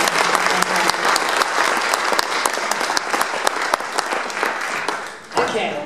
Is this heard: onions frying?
no